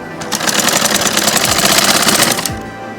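A sewing machine runs a continuous straight stitch along a saree border, a fast steady mechanical rattle that holds at a constant pace for about two seconds before stopping, with no talking.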